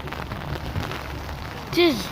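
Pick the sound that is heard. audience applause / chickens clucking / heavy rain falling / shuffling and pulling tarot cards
heavy rain falling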